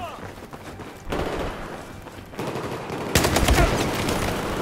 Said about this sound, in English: I shoot my whole fucking magazine out of someone.